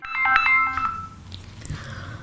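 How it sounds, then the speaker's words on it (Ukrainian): An office telephone rings for a mobile social-psychological support team, a clear electronic ringtone of a few bright repeating tones at close range before it stops, leaving faint room noise. "Телефон мобільних бригад дуже рідко мовчить протягом дня."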